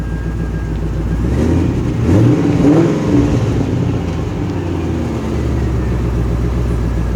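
A 2006 Pontiac GTO at a car show revs loudly up close, its engine climbing in a sweeping rise and fall near the middle before settling back to a steady, deep rumble.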